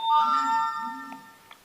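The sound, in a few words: Samsung Note 8 phone notification sound after sign-in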